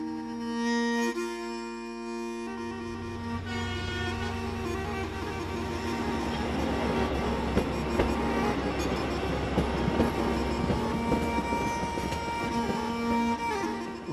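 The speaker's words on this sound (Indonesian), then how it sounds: "Itu merupakan KA Wisata" KA Wisata tourist train running on rails near Padang Panjang, a steady rumble with clanking wagons, squealing wheels and a high sustained tone, loud and close throughout.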